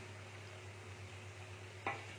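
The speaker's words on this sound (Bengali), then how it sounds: "আমি কিন্তু অল্প তেল দিয়ে আমি ভাজছি" Quiet, steady sizzling of rice flour and potato snacks frying in a little oil, with a low hum underneath and a brief clink near the end.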